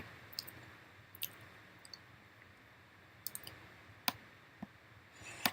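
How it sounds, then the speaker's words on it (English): Computer mouse clicks while selecting a book title in a library catalogue search, several sharp, faint, isolated clicks spaced irregularly over a quiet background hiss. "you might click on the title of a book that looks good"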